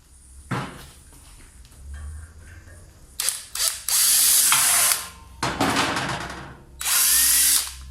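A power drill with a 5mm bit whirs in several loud bursts, spinning up and stopping repeatedly, with grinding and ratcheting noises as it bites into hard material.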